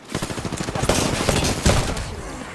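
Rapid automatic weapon fire in Apex Legends, a dense rattling stream of close, loud shots with a few heavier bangs, continuous throughout.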